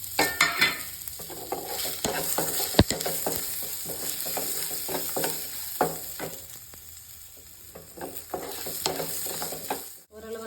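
Onions and curry leaves frying in a pan, a loud close sizzle with repeated scraping stir strokes and clinks, fading briefly before a sharp knock near the end.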